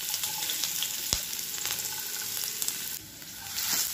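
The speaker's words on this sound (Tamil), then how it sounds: "ஆயில் ஹீட் ஆனதும் நம்ம வந்து இந்த பூண்டு" Garlic frying in hot oil in a pan for Gobi Manchurian, a steady close hiss and crackle with a couple of louder pops and no talk.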